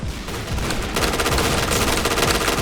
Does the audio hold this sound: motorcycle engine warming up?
no